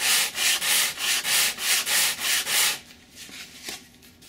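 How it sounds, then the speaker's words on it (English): Sandpaper rubbed in steady back-and-forth strokes across a foam model aircraft wing to ease its dihedral angle, about nine loud, close, even strokes followed by quieter scattered scraping. "I'm going to take my sandpaper to the smoother side"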